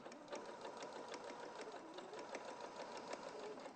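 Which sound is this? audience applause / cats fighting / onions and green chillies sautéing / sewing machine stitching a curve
sewing machine stitching a curve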